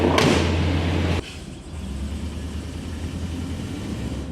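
An old shop truck's engine runs as it pulls off, a loud rough roar that abruptly drops to a steady lower drone of driving.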